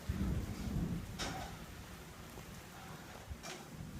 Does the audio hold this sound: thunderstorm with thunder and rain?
yes